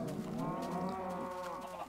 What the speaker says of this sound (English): we're basically overrun with cows